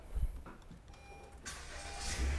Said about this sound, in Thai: เดี๋ยวขอสตาร์ทรถ